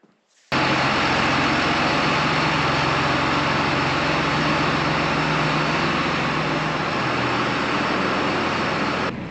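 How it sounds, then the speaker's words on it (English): Farm tractor engine on an Iowa farm at planting time catches after a brief quiet start and settles into a loud, steady diesel drone that runs unbroken to the end, with a slight change in pitch midway. "we're gonna get this tractor fired up"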